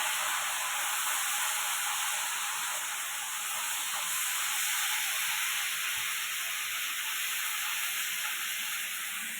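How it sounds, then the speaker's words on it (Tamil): Anchovy fish curry (nethili meen kuzhambu) boils and steams in a pot, giving a steady, even hiss of bubbling and vapour that continues unbroken for the whole stretch. "குழம்பு நல்லா கொதிச்சாச்சு."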